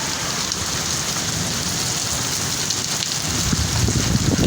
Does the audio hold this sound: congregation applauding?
no